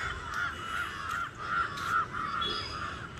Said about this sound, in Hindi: सारे कबूतर, चिड़िया, कौवा सब अपने अपने घर को जा रहे हैं।